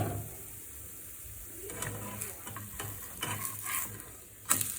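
A spinach and jowar chilla roasts in a covered pan, giving a faint, steady sizzle with occasional soft clatters from the lid and utensils nearby.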